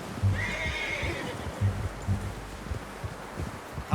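A horse whinnies once, clear and close, while hooves clop in a slow, uneven rhythm over soft ground in the Red Dead Redemption 2 video game.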